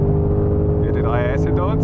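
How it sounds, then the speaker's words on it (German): Ford Mustang engine droning loud and steady at full throttle on a race track trackday, heard from inside the car with someone talking over it. "Vollgas einfach durch hier."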